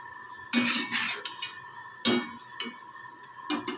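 A spoon scrapes and clanks against a curry pan while tomato paste is stirred in, with three sharp metallic knocks among softer scraping and a faint sizzle underneath.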